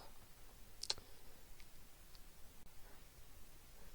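A couple of sharp mouse clicks as someone clicks on a map near Canada, heard briefly near the start over quiet room noise, with no one talking.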